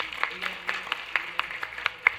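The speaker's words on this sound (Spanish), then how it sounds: "Vamos a darle otro fuerte aplauso." Light, evenly spaced claps from an audience at an academic literary panel, a thin ragged patter rather than a full ovation, quiet and somewhat distant.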